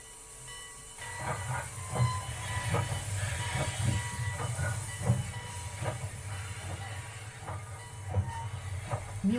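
Steam train at a small-town railway station in southern Minas Gerais in 1936, heard as a layered drama effect: steady hissing steam over a low rumble, with repeated clanks and wagon knocks through a busy, continuous bed.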